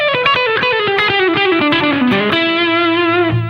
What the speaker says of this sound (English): nice little shredding lick, country shredding lick